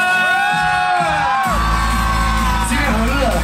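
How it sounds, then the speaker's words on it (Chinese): A festival concert crowd at Dajia Jenn Lann Temple roars and screams in a sustained loud wave after a performer calls out over amplified music, the cheering swelling and holding. "再次尖叫"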